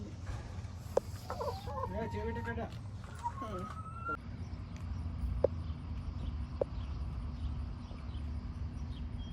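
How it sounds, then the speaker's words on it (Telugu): Chickens cluck and call in short bursts early on, fairly close, over a low steady background rumble with a few sharp clicks, on a farm in Uwchlan Township, Pennsylvania. "ఇట్లా కోళ్ళు కూడా పెంచుతున్నారు"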